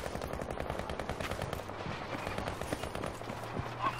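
Sniper and gunfire in a video game, a quiet, rapid run of distant shots and crackling bursts with a faint, deeper thud pattern underneath and no talk.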